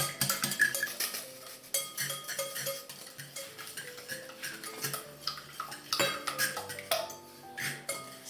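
Rapid clinking and tapping of a utensil against a bowl as eggs are beaten with salt and sugar, a steady irregular rhythm of close, bright ticks with background music throughout.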